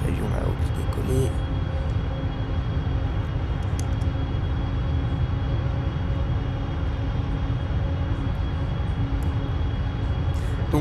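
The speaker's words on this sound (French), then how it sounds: "Le petit avion là-haut qui décoller." Small airplane taking off in the Flight Simulator X video game, a steady broadband engine drone holding at constant loudness throughout, with faint clicks near the start and no speech over it.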